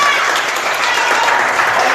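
A church congregation applauds at a worship service, a dense, steady wash of clapping from many hands at close range, continuous and even throughout.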